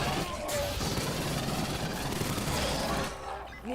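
A sentry turret in a sci-fi shooter video game fires a dense, continuous burst of rapid gunfire, loud and close, sustained for several seconds before easing off at the end.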